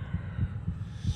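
Rhythmic heartbeat thumps in Minecraft's Decked Out 2 dungeon game, four low, muffled pulses in a steady slow rhythm, close and alone over a faint hum.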